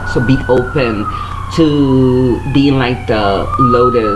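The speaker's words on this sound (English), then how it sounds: "sorry about the sirens in the background" Emergency vehicle siren wailing steadily in the background, a rising and falling tone running the whole time beneath a woman's continuous close speech.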